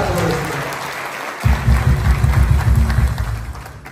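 A church congregation breaks into loud, dense applause after a quieter start, clapping steadily and close by for a few seconds.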